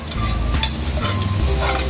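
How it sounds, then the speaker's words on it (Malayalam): Whole spices, fennel seeds, mace, cinnamon and cloves, fry and sizzle in hot oil in a pan for chicken curry while a spoon stirs and scrapes through them, close and continuous. "ഇപ്പോൾ പെരിഞ്ചീരകം, അതുപോലെ തന്നെ ഈ ജാതിച്ചപ്പ്, അതുപോലെ തന്നെ പട്ട, കറാമ്പ്, ഇതൊക്കെ ഇട്ടുണ്ട്. ശേഷം ഒന്ന് നല്ല രീതിയിലൊന്ന് മിക്സ് ചെയ്യാം."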